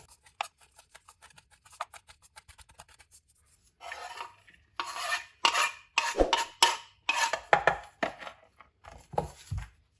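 A knife finely chops a dry coriander and potato mixture on a board, starting with light sparse taps and building into quick, crisp rhythmic chopping bursts, close and clear with no talking.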